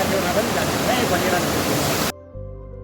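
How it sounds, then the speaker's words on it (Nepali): A small natural waterfall near Bandipur, Tanahun, Nepal, a dense close rush of falling water filling the air for about two seconds before cutting off. "अन्त यो चाहिँ सानो झरना हो।"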